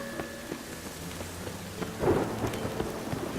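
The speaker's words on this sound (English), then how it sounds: "Rain was coming." Steady rain falls with a low thunder rumble swelling in the middle in The Witcher 3: Wild Hunt, an even wash of rainfall and distant storm with no voices.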